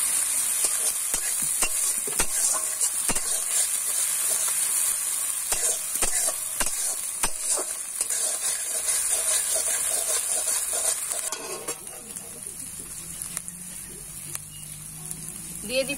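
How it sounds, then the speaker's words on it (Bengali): Onion paste sizzles in hot oil in a wok with cut bay leaves, a bright steady hiss with scattered clinks of a spoon. The hiss drops to a softer sputter toward the end. "তেল দিয়ে দিচ্ছি কড়াইতে, তেজপাতাকে কেটে দিয়ে দিয়েছি। এরপরে দিয়ে দিচ্ছি পেঁয়াজ বাটা"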